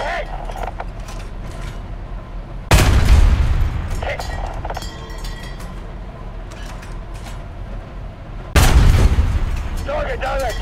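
Tank cannon fire in the War Thunder video game, aimed at a target tank: two loud booming shots about six seconds apart, each with a sharp blast and a rumbling tail, over continuous engine and battle noise, with a voice speaking.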